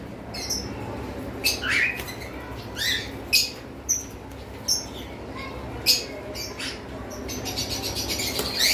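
Lutino and albino cockatiels, alongside forpus and conure birds, call from an aviary setup in a series of sharp, close chirps and short squawks, loud and irregular over a soft background hum.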